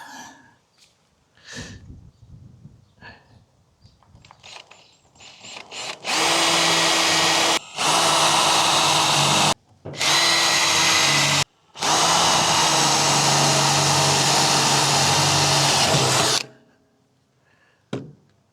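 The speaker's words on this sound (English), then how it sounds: "So I get a pilot hole drilled, set it on there, get it square, mark the 4 points." A power drill boring a pilot hole runs in several loud, close, sustained bursts with brief pauses between them, after some quiet handling sounds at the start.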